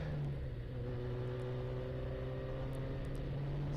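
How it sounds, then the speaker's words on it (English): A ChampCar endurance race car at Thompson Speedway during a 12-hour enduro, its engine held in a steady low drone with a faint buzz as the driver lifts off the throttle over a rise; no talk. "You can hear him lifting off the throttle. That's to avoid wheel spin."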